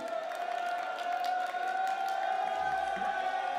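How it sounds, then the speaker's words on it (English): A crowd at a prize-giving cheers and whoops for a winner, a steady, dense roar of voices with scattered shouts and some clapping running throughout, holding fairly constant from start to end. "they are cheering for you"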